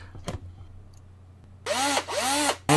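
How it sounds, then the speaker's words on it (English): A cordless power drill spins up against the rivets of an old hard drive, two loud whining bursts with rising and falling pitch after a few faint clicks, then a third burst starting at the end. "And now that we're ready to drill,"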